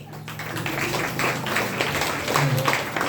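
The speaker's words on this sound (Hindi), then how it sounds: "बहुत अच्छे, एक जोरदार ताली" Applause from an audience at a DXN business program in Bhagwanpur, a dense, steady patter of clapping held for about three seconds at moderate loudness with a faint murmur beneath.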